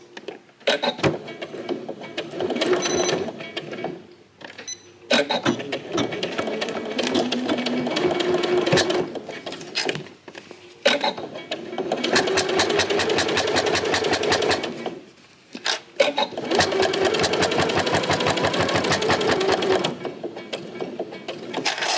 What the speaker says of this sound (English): I will then go ahead and pick up where I left off on the side seam and stitch the lining.